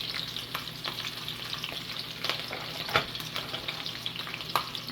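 Green chillies and garlic frying in a hot pan for spicy chicken, a soft continuous sizzle dotted with sharp spattering pops and occasional stirring clicks, close and alone.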